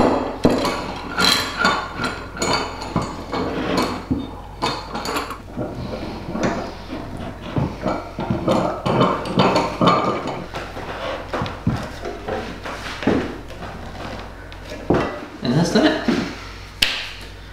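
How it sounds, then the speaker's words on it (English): Clamps go onto a guitar body during a workshop build, giving a string of close wooden knocks, taps and metallic clicks under ongoing conversation. "we just get some clamps going on"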